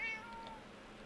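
In the game Minecraft, a cat gives one short, faint meow at the start, then fades into quiet background.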